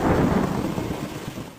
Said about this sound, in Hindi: कुछ दिनों से गांव में मूसलाधार बारिश हो रही थी